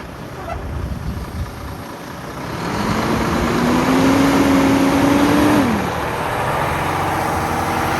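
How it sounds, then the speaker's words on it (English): A big, huge truck's engine rumbles nearby, then builds into a louder sustained rev with a rising whine for a few seconds before dropping back to a steady idle, with no clear talking. "This is a big, giant, huge freaking truck."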